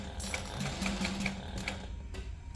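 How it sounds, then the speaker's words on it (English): A sewing machine runs with its thread tension tightened hard to stop the bobbin or top thread from looping, making a continuous close, loud mechanical whir with a rapid stitching rhythm that stops near the end. "the reason that my sewing machine sounds a little funky is because I had to really tighten up the tension"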